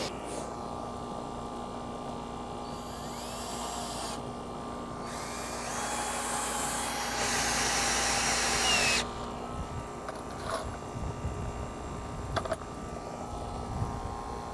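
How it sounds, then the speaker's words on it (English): A power drill drives wood screws during hurricane preparation, whirring in a few short bursts over a constant electrical hum, quiet and close, followed by faint handling clicks. "Put in some wood screws into that."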